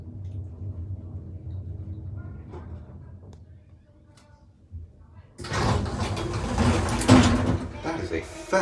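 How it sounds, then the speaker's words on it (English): A Schindler S-Series hotel elevator's sliding door closes quickly in one loud, abrupt mechanical burst following a quiet hum and scattered small clicks, heard up close inside the car. "That is a fast door"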